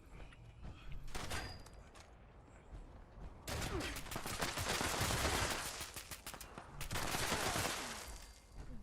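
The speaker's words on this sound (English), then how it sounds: "I'm gonna shoot you in the face." Rapid bursts of gunfire from a shooter video game, dense volleys and single shots in clustered runs with brief pauses, loud and close throughout.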